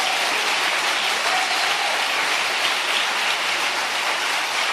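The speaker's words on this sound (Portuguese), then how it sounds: "E pode aplaudi-lo para valer" A church congregation applauds steadily and loudly, a dense, continuous wash of clapping that holds at full level from start to finish with no voices standing out.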